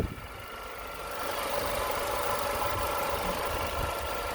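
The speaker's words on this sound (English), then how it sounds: "These engines are beautiful and this one's running beautifully" A 2013 Mercedes-Benz C-250 rear-wheel-drive engine idling up close, a steady, smooth mechanical hum with light ticking that rises slightly in level after the first second and holds evenly.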